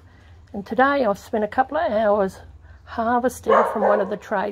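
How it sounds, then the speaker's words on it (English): A neighbour's dog barks somewhere nearby at an outdoor worm farm, brief yips and barks mixed under someone speaking close to the microphone throughout. "That's the neighbour's dog."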